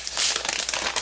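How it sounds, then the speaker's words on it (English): Protective plastic film being peeled off a new third-generation iPad, a brief close crinkling and rustle lasting about a second. "let's go ahead and release the iPad here. So peel it off here."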